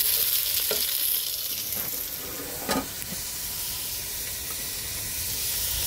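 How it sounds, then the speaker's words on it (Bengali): Onions frying in hot oil with browned garlic, a loud, steady, close hissing sizzle with a few faint stirring knocks and no talk. "এখন পেঁয়াজ দিয়ে দিলাম।"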